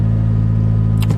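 A Honda Civic Type R FD2 engine runs at a steady, loud idle with a deep harmonic hum, and a short clatter of noise near the end.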